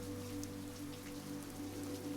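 Steady rain pours at night outside a ramen shop, an even hiss of drops pattering on surfaces with no breaks or thunder.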